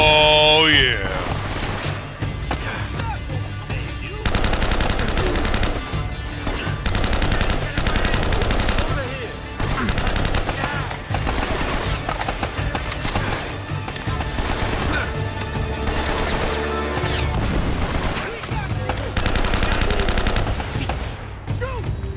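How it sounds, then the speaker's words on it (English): Gunfire in the Uncharted video game rattles on for the whole stretch, with dense rapid bursts and repeated shots close and loud. Game sounds and voices mix in with the shooting. "Shots in a row."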